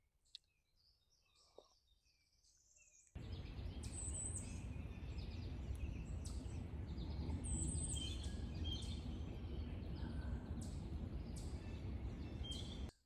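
Sparse, faint chirps of woodland birds on a morning camp drift over a steady loud rushing background that starts after a quiet opening with a couple of soft knocks.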